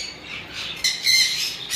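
A conure parrot gives short, harsh, shrill squawks, with a faint call followed by two louder close bursts in quick succession.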